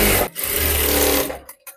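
A sewing machine runs steadily, stitching the long folded sides of a ruffled blouse, a continuous close whirring burst that cuts off near the end with a couple of short stops and restarts.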